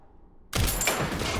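Gunfire in the horror video game Resident Evil Requiem, a single sudden loud blast that breaks a quiet background and rings on briefly.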